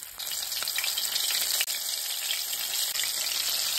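Minced-meat cutlets frying in preheated oil over medium heat, a loud, continuous close-up sizzle that holds steady throughout, with no voices.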